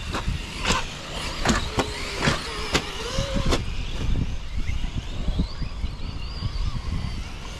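Radio-controlled Traxxas Maxx and Arrma Granite monster trucks drive outdoors, their electric motors whining up and down with a run of sharp knocks and clatters early on, then a steadier rising whir.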